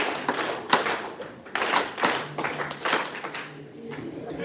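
Students clapping together in a classroom, a series of sharp irregular hand claps in rhythmic bursts, close and moderately loud, with voices talking among them.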